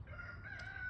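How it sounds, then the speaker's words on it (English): A backyard rooster crows nearby, one sustained strained call over a low outdoor background. "And you can hear the roosters like crazy right now."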